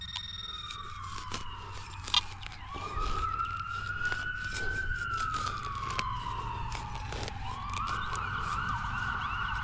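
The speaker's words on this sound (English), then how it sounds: "Sounds like an ambulance in the background." An ambulance siren wails in the background, its rising and falling tone sweeping steadily while a faint thump sounds nearby.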